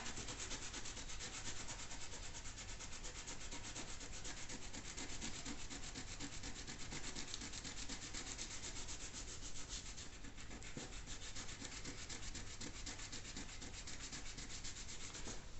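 Fingertips rub dried masking fluid off watercolor paper in a soft, continuous, even scuffing. The rubbing is quiet and close, and no one talks over it.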